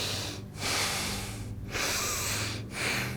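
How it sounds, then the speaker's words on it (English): Loud, forceful nasal breathing during Anuloma Viloma pranayama, close up, with long rushing breaths cut by three short pauses as the breath changes direction. "I have seen people doing the pranayama with the sound of the breath"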